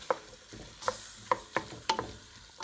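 Ground turkey for a turkey bolognese fries in a pan while a utensil stirs it, giving about seven sharp scraping strokes spaced evenly over a soft, steady sizzle, close and moderately loud.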